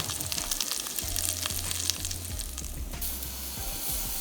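Bacon cheeseburger patties frying in a pan, a steady close sizzle with crackling pops and a faint low hum underneath, no talk.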